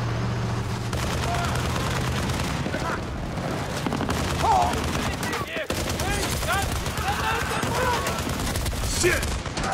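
Enemy gunfire in Battlefield: Bad Company, rapid bursts and sustained shooting close by, mixed with engine rumble and heavy battle noise, with a voice talking over it.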